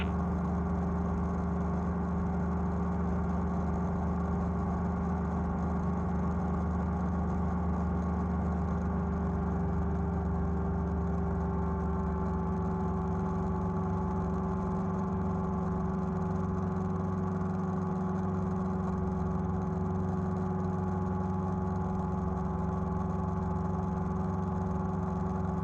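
The engine of a Challenger II light sport aircraft drones steadily in flight, a loud, continuous hum with a constant pitch and no talk over it.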